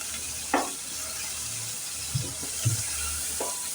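Garlic, green chilies, curry leaves and onion sizzle gently in a pan over a steady hiss, with a few soft clinks and scrapes of stirring scattered through and no voices.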